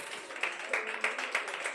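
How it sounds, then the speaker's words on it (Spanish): A church congregation applauds, a steady wash of clapping with regular stronger pulses suggesting hands falling into a loose shared rhythm. "Denle un aplauso a Cristo."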